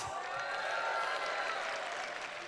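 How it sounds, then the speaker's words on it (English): Crowd applauding at a hackathon closing ceremony, a dense continuous wash of clapping heard alone and fairly soft, without talk. "Give it a bigger round of applause."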